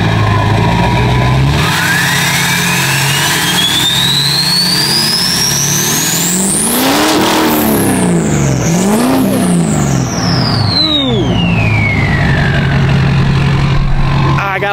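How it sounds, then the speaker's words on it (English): A Cummins diesel truck engine revs hard near the microphone, pitch climbing and falling through long loud pulls over a constant rumbling roar, with a turbo-like whine rising and dropping above it. "So let's go ahead and rev her up."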